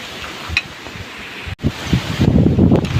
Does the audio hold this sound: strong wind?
yes